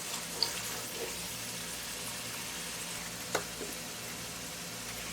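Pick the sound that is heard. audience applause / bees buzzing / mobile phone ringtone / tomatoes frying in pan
tomatoes frying in pan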